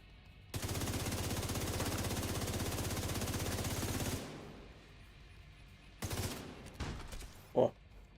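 Sustained automatic gunfire in the Division 2 video game rattles loudly for about three and a half seconds as a rapid continuous burst. After a pause, several shorter shots and a sharp final crack follow.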